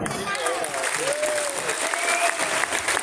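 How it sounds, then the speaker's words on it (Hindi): Sustained applause from a large audience at a stage event, a dense continuous wash of clapping with a voice speaking over it throughout. "आपके लिए ये आत्मा से, दिल से ताली मार रहे हैं"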